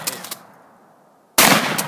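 A shotgun fires a single loud blast at an outdoor shooting session, cutting in abruptly after a near-silent pause and a few soft handling sounds.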